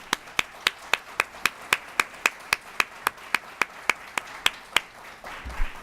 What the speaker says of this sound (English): giving a round of applause to everybody that is in this room